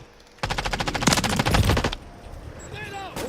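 Rapid automatic gunfire from a video game shootout rattles loudly in fast bursts for about a second and a half, then cuts out, leaving quieter game sounds and a brief whistling effect.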